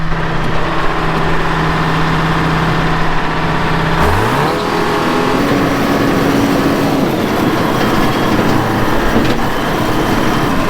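A Detroit diesel engine runs loud and steady at a pump pit irrigation installation, then its pitch shifts and climbs partway through as it revs, with a heavy, continuous mechanical roar throughout.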